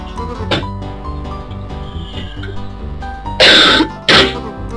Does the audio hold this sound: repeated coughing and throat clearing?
yes